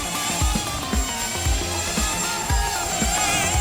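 Hubsan X4 toy quadcopter drone flying indoors near a table, with a steady high-pitched propeller whine and buzz held throughout and soft low thumps about every half second.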